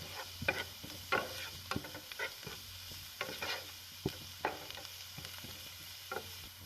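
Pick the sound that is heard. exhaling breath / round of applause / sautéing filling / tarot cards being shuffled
sautéing filling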